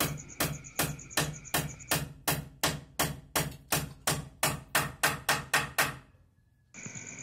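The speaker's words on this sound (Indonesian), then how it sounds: "bila sudah datar seperti ini selanjutnya dipaku" Nails hammered into a wooden post at a concrete gutter construction site, about twenty sharp, loud, evenly spaced strikes that speed up toward the end, then a pause and a steady ringing tone.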